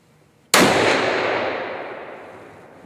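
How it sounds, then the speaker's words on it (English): Single loud rifle shot fired at a 100-yard target, a sharp crack followed by a long rolling echo that slowly fades over two seconds. "First, to test the system, we're going to take a shot at 100 yards."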